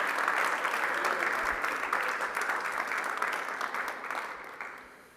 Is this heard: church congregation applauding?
yes